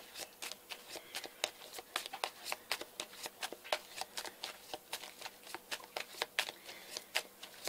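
Oracle cards for a tarot reading are shuffled by hand in quick, regular riffling bursts, close and crisp, continuing steadily with no talk over them.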